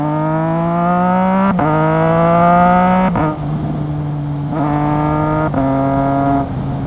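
A Triumph Trident 660 motorcycle with a quickshifter revs hard at high RPM, its loud, close engine note climbing steadily through several gears. Each quick upshift briefly cuts the rising tone before it climbs again. No one speaks.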